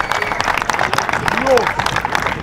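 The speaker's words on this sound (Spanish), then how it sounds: "un aplauso para los dos" Applause from onlookers at a street 1-on-1 basketball tournament on an outdoor court, a steady wash of clapping running the whole stretch beneath loud overlapping chatter and shouts.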